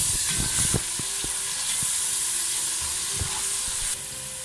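Ginger garlic paste sizzles steadily in a hot pan with turmeric, a constant frying hiss broken by a few scraping stirs of a spoon near the start and middle, close and fairly loud.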